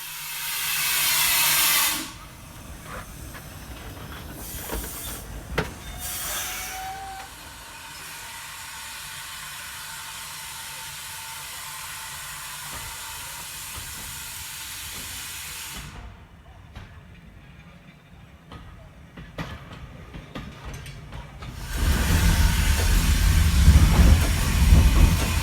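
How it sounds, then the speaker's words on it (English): Small steam locomotive Trojan 1340 hisses and chuffs while pulling a train at Didcot Railway Centre, with bursts of steam and rolling clatter of wheels on track, fairly close. "So today's little steamer pulling us around"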